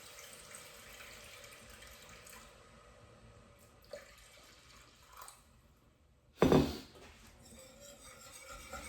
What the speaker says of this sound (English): So I'm gonna add about half my milk.